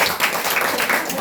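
Audience applause at a Korean church testimony talk, a loud, dense wash of clapping from a crowd filling the whole brief moment without letup.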